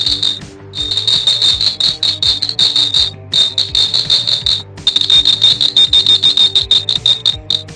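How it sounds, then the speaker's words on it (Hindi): A homemade earthquake detector alarm buzzer beeping in loud, shrill, rapid trains, briefly cut off twice, over a softer repeating low electronic hum. "ये अभी बीप कर रहा था जैसे बजर बीप करता है"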